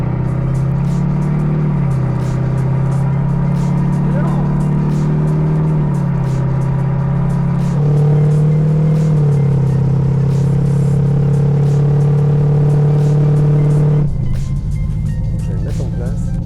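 A Rolls-Royce engine drones loud and close from inside the car as it gathers speed on the road, the pitch stepping up through gear changes before dropping away near the end, with people talking over it.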